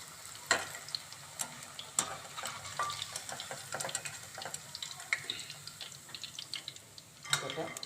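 Baby corn fries in hot oil for chili baby corn, a close, busy crackle and sizzle with scattered sharp pops and occasional utensil clinks, while a voice talks over it.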